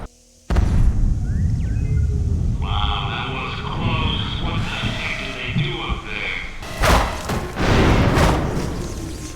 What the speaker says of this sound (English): an explosion cuts our training short